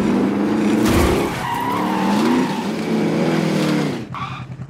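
A vehicle in Call of Duty Modern Warfare skidding with long screeching tire squeals and a revving engine, loud and close, ending in a short thudding impact and rattling as it strikes something.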